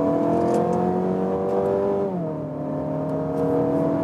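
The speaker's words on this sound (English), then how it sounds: "let's accelerate third gear from 65." A 2019 facelift Mazda 6 pulls hard in third gear from 65, its engine note rising steadily, dipping briefly as the tone shifts, then climbing again, loud and close with no talk over it.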